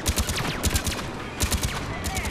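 Rapid bursts of gunfire from a gun in the video game Mass Effect 3, loud, close repeated shots in quick uneven volleys, with a voice reacting briefly.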